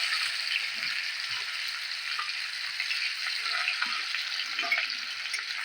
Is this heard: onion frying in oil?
yes